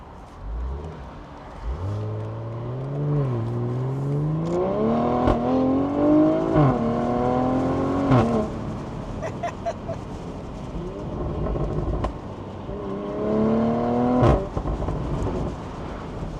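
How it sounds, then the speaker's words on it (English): A BMW G14 840i with an aftermarket catback exhaust and downpipe, in sport mode, pulls hard with a rising engine note that shifts through gears, loud and close, with crackles between pulls and a second shorter surge near the end. "Put it back to sport mode, do a little pull. What a sound."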